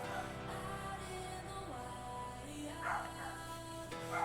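A dog barks and yips over and over at home with nobody else there, a steady, insistent run of barking that keeps going with no pause across the whole stretch.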